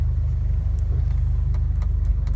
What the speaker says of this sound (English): It feels weird to be driving an automatic Toyota.